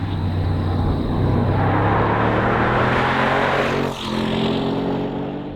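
A 2015 Jaguar XFR-S engine roars steadily and loudly, its drone holding strong throughout with a brief dip near the end.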